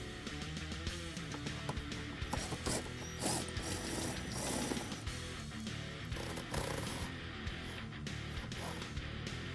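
A ratchet clicks steadily as it loosens the carrier bearing support bolts under a 2015-2018 Mustang GT, the rapid metallic pawl ticking continuing close up and fairly quiet throughout.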